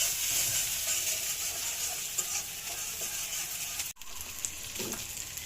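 Beaten eggs and onion frying together in a pan for egg bhuna, cooked in an oven because the gas was off, a steady close sizzle with occasional stirring clicks and a brief dropout near the end.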